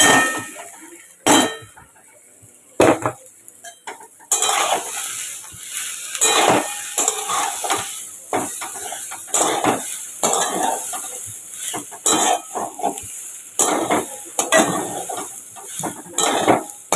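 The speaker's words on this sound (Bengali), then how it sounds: "এই ডালিয়া আর মুগ ডালটা দিয়ে দেবো।" Broken wheat dalia and moong dal are tipped into vegetables frying in a pan, then stirred with a metal spoon, giving sharp scraping clangs and clinks over a faint sizzle.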